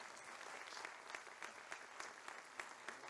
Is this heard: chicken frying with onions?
no